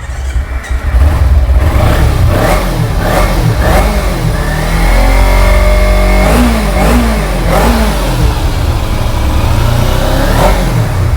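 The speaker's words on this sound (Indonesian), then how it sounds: "langsung saja aku cek soundin untuk suara mesinnya ya" A Kawasaki Ninja SS motorcycle engine with about 22,000 on the odometer, idling and then revved repeatedly in loud, close bursts, each rising and falling, with no talking over it.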